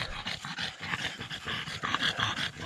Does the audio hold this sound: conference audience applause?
no